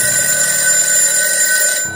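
A mobile phone rings loudly and alone in a short burst, a sound effect in a horror audio story, its bright electronic ringtone tones holding steady before cutting off.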